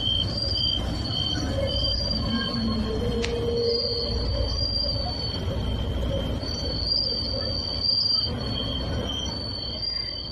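A Chongqing Line 6 metro train runs beneath a road bridge at night, its wheels squealing in long sustained high tones over a steady rumble, continuous and fairly close.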